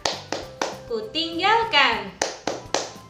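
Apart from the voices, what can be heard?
children clapping along to a clapping song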